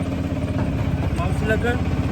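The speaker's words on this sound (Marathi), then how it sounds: "आम्ही रिक्षात बसतोय" An auto-rickshaw engine idles close by with a steady low rumbling chug as passengers get in, and voices talk over it.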